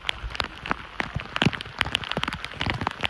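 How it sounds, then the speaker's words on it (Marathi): Heavy monsoon rain pours at Tamhini Ghat, a dense, close hiss of drops drumming on surfaces with many sharp individual splashes, steady and loud throughout. "काय खतरनाक लेवलला पाऊस वाढलाय बघा तुम्ही एकदा."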